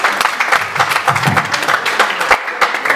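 A church congregation applauds to acclaim Jesus during a worship service, producing a loud, dense burst of clapping from many hands close by that continues for a few seconds.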